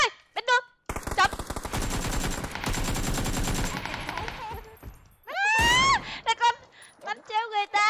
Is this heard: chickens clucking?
no